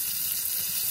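Sliced fresh garlic sizzles in a hot frying pan, a steady close hiss of frying with a faint bubbling undertone and no voices.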